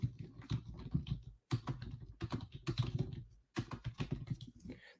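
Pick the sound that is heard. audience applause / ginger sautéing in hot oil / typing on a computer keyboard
typing on a computer keyboard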